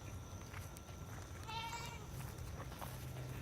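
A goat on a goat farm lets out a single wavering bleat in the middle, fairly close, over a low steady background hum.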